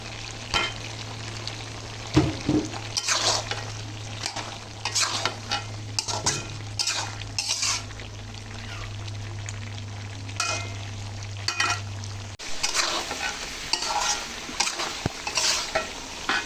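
Tomatoes are tipped into radish and potato frying in a pan for a mirka fish curry, giving a soft sizzle broken by repeated stirring scrapes and utensil clinks, with a low steady hum for most of the stretch.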